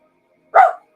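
A single sharp dog bark goes off close and loud indoors, with silence before and after it.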